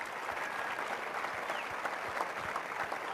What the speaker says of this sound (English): Let's have a big round of applause for all the legends.